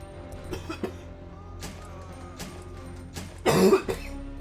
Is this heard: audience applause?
no